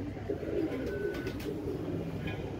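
Heera Laal pigeon cooing softly in a low, rolling murmur, steady and close under a faint background hum.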